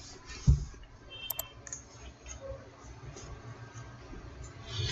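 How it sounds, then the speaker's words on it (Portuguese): A computer mouse double-clicks on a program icon to open Boardmaker software, two quick faint clicks standing out from low room noise with a few other soft taps around them. "dei 2 cliques rápidos aqui no ícone do programa para abrir ele"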